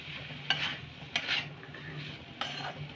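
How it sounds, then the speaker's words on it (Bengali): Fried cauliflower being stirred together with peas in a pan, faint sizzling broken by three distinct scraping strokes of a spoon against the metal, quiet and close, no talking. "ফুলকপিগুলো ঢেলে দিলাম। ভালো করে আমি মটরের সাথে মিশিয়ে নেব।"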